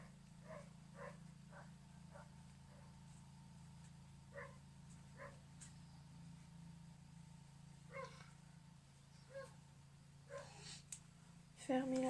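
A dog barks in short, evenly spaced yaps at a moderate distance over a steady low indoor hum, a few sharper barks near the end.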